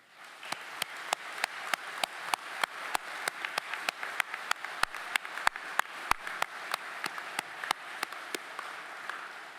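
Audience claps at a naval training unit ceremony in Charleston, sparse and steady rather than dense, each clap distinct in a regular rhythm lasting nearly ten seconds.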